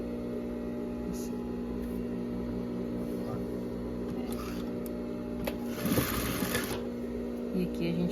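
A sewing machine runs a seam on a baby romper, a low steady motor hum with fabric rustle and handling clicks, a brief louder burst near the end, and faint talk mixed in.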